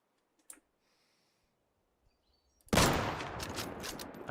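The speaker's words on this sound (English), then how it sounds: "Oh, he's got several fucking turrets in there." Several turrets open fire in the video game Deadside, a sudden burst of rapid, dense automatic shots that follows near-silence and a single faint click, then keeps rattling loudly to the end.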